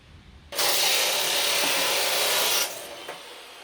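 A power saw rips 4-inch wide wood stock down to 3 inches for a rear light rack on a skoolie, one loud steady cutting burst of about two seconds between quiet pauses.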